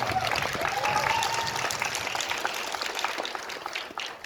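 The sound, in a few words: audience applause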